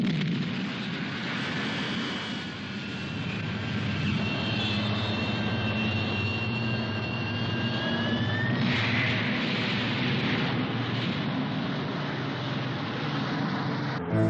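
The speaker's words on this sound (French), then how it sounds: "Mise à feu du réacteur principal" Main reactor of a bomber spaceship igniting: a loud, steady, jet-like roar with a rising whine that climbs for several seconds before giving way to a broader rushing blast, sustained to the end.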